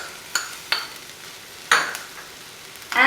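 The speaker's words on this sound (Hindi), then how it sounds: "फिर हम इसे थोड़ी देर के लिए सॉटे करेंगे और वेजिटेबल्स को थोड़ा कुक कर लेंगे।" Spinach, mushrooms, capsicum and tomato sautéing in a pan, a soft background sizzle punctuated by four sharp clinks and scrapes of a spatula stirring.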